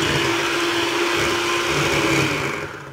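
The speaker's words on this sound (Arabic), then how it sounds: "نبقاو نضربوا بالخلاط الكهربائي حتى نشوفوها رجعت عندنا الكريمه" An electric mixer whips cream for a quick banana dessert, a loud steady motor whine with a constant pitch that runs without a break and tapers off at the end, with no talking.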